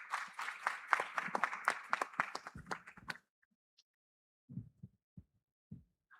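An audience at the 3i Africa Summit applauds as a moderator steps on stage, a dense burst of clapping for about three seconds that quickly thins out into a few scattered, isolated claps.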